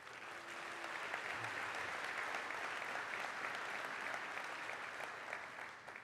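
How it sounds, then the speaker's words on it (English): Sustained applause from a conference keynote audience, an even, moderately quiet wash of many hands clapping that holds steady and tapers slightly at the end. "please give a round of applause to the first one"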